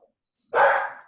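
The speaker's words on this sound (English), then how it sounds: "We hear you and your dog." A single short, loud dog bark rings out close by on a video call, alone after brief silence.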